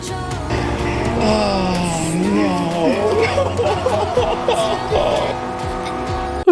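A car in Cyberpunk 2077 drives through Night City and drifts, with engine sound and squealing tires throughout, loud and close beneath music.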